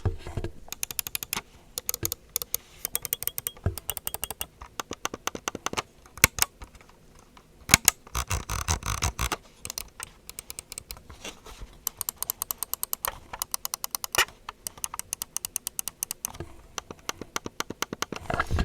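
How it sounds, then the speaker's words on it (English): Rapid bursts of sharp plastic clicking from a Logitech G502 X gaming mouse, close up, in quick irregular runs separated by brief pauses, with no voices. "Let's listen to how the mouse clicks sound."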